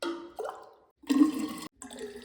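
Hot drinking water is poured into a vessel indoors on a winter day, in short separate bursts of splashing liquid with brief pauses between them, fairly close and moderately quiet.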